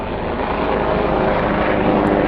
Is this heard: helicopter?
yes